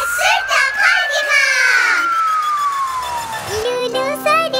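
Police car siren wails in a long rising and falling tone, loud and close, over children shouting and a lively crowd in a kids' song.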